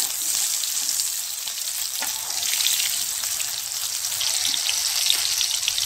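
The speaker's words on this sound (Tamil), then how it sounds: "போட்டு வதக்கணுங்க முழுசாகவே தக்காளியை போட்டுடலாம்" Whole tomatoes sautéing in a pan for coconut kulambu, a continuous bright crackling sizzle with a few soft stirring knocks, close up and with no talking.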